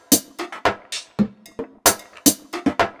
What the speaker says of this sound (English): those were nice sgija drums right there